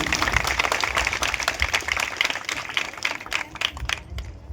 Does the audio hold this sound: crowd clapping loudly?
yes